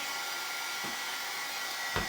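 A hair dryer blows over freshly finished wooden blocks before waxing, a steady loud whooshing drone up close with a couple of faint knocks.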